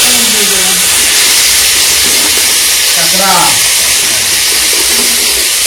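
Spiced bitter gourd coated with cumin, salt and turmeric hisses loudly in hot oil, a steady, close frying roar that covers a few faint voices talking in the background.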